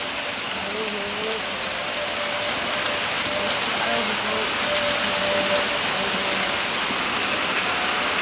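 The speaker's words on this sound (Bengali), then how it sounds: "5:45 থেকে এখনো বৃষ্টি হচ্ছে আমাদের এখানে" Steady rain hisses outdoors in a continuous wash of noise at moderate level, with faint tonal sounds and a low mechanical rumble mixed in beneath the downpour.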